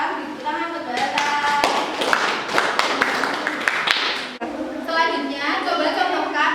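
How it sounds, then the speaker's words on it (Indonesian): Classroom applause for a student who gave a correct answer, several seconds of brisk, close clapping from many children mixed with voices, ending abruptly as talk resumes. "Beri tepuk tangan buat Mbak Tata."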